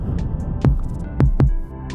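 Three deep Groove Agent SE kick drum thumps in Cubase, each followed by a washy reverb tail, played over a low sustained bed of sound.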